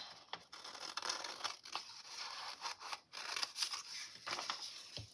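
Scissors snip through paper at an angle to miter the corners of a handmade envelope, giving close, steady cutting and rustling that runs on with no talking.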